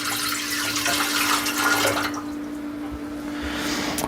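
Water poured from a measuring cup into the pan of a Vevor bread maker, 180 ml, a close splashing, trickling stream lasting about two seconds before it stops, leaving a faint hum and a few small drips.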